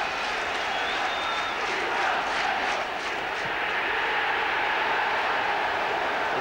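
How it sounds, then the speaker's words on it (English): A football stadium crowd roars after a goalkeeper's excellent save in a Liverpool FC match, a dense, sustained wall of cheering and shouting that stays loud throughout, with faint whistles within it. "Huge roar as the goalkeeper makes an excellent save from Erin"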